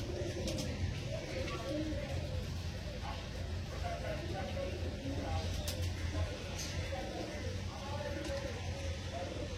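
Mastan breed pigeons coo at a seller's loft, a low steady murmur of calls beneath constant background noise and a voice talking.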